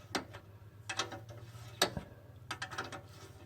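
A hand ratchet works on the last 14mm exhaust manifold bolt of a Toyota 2TZ-FE engine in a 1990s Tarago/Previa, giving short bursts of quick close clicks in a few separate strokes over a low hum.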